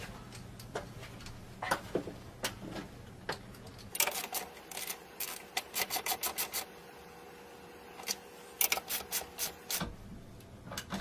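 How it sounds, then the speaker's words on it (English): A ratchet with a 1/2-inch socket tightens the bolt of a P90X wall-mounted pull-up bar, giving close bursts of quick clicks between short pauses and occasional handling noise, with no talk. "using the 1/2-inch socket again, we will tighten this guy completely up"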